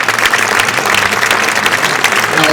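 Loud, dense audience applause filling a tennis club awards ceremony, a continuous wash of many hands clapping close by.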